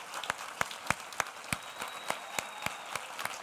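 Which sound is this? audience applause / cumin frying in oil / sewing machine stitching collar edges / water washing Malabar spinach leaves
audience applause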